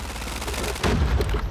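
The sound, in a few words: gunfire in Call of Duty Mobile video game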